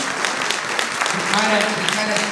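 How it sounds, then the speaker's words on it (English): Convention panel audience at New York Comic Con claps steadily for a couple of seconds, with a speaker's voice rising over the fading applause. "Round of applause for that."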